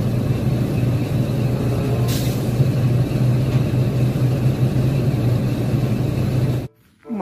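A toy mining dump truck runs with a steady, continuous mid-range engine-like drone, loud and close, holding level for about six and a half seconds before cutting off abruptly near the end.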